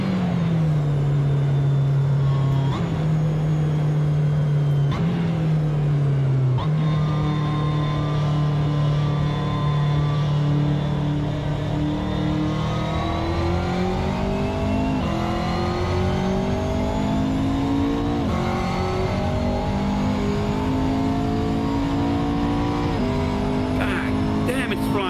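Racing engines of a McLaren P1 GTR, a McLaren F1 GTR and BMW cars in the Assetto Corsa racing game roar loudly and continuously, their pitch climbing steadily through long accelerations with brief dips at gear changes.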